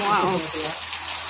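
Heavy rain pours in a steady dense hiss during a flood, loud and close, with a brief exclamation from a voice at the start.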